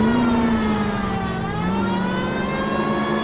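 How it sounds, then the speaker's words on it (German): Police car siren in the video game L.A. Noire, a loud, steady wailing tone that sweeps slowly up and down over a rumble of car engine noise with no talk. "wenn einer mit der Sirene angerauscht kommt"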